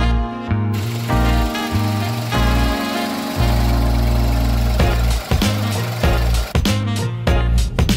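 A Ford Fiesta 1.1 Mood Plus with a naturally aspirated three-cylinder engine hums at close range, a steady low drone broken by several brief dips and surges in loudness.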